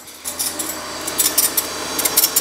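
Lawn mower spindle blades being ground to run true, a steady abrasive rasp with repeated scraping bursts, close and fairly loud, no talking.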